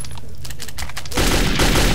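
Machine gun fire erupts in Metro 2033, a loud dense volley kicking in midway after a quieter stretch of scattered thumps and clatter.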